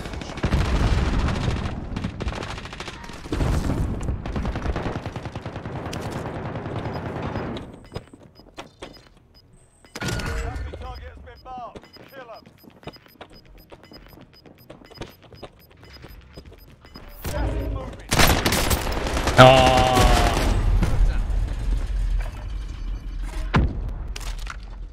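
Burst-fire weapon shots in a video game, several clusters of sharp cracks separated by quiet gaps, fairly loud and close among other game noise.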